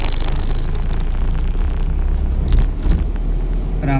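A car engine drones steadily inside the cabin during a driving lesson as the vehicle slows down, a loud continuous low rumble with some road and wind noise.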